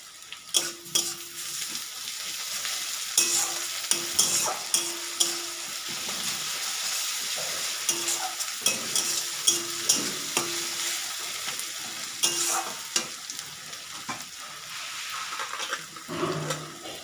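Garlic paste and grated ginger fry in a hot pan with a steady, close sizzle, broken by repeated stirring scrapes and a few brief clinks, with no talking.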